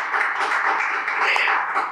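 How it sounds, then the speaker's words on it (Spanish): Steady applause from a studio audience greeting a guest, dense and continuous clapping throughout with a faint whoop near the end. "le vamos a dar una fuerte bienvenida y un fuerte aplauso a José"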